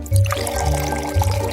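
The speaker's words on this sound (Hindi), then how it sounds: "तैयार घोल को सिरप में डालें।" Prepared solution poured into hot sugar syrup while making lollipops, a steady liquid pour with splashing and trickling that runs for about a second and a half, close and fairly loud with no talk.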